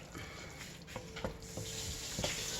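A spoon stirs pureed cucumber and the liquid drawn out of the cucumbers. It makes soft, wet sloshing with a few faint clinks against the container, quiet and close, under a steady low background hiss and no talk.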